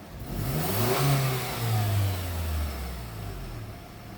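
A warm 2007 Acura RDX engine runs and revs briefly, its tone rising and falling over a steady close mechanical hum, with no talking.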